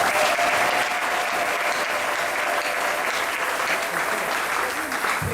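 A church congregation at a Sunday service claps in sustained, loud applause that fills the room steadily from start to finish.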